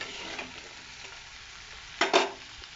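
A spatula stirs previously fried chicken with soy sauce in a pan, a soft steady sizzle broken by two sharp scraping strokes near the end, close and fairly quiet, with no talking.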